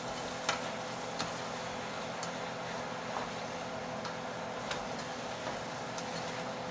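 Ground meat browns with peppers and onions over medium-high heat, giving a low, steady sizzle with a few faint ticks and scrapes from stirring, quiet and even throughout.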